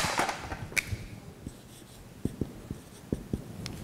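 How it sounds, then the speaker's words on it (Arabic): Chalk or marker taps and scratches across a classroom board while an exam solution is written out: a string of short, sharp strokes, close and distinct, with no voices. "أكتب"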